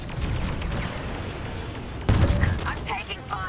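Gunfire from Star Wars: Squadrons starfighter combat, a steady rumble of shots and engine noise that jumps into a louder burst of blasts and booms partway through.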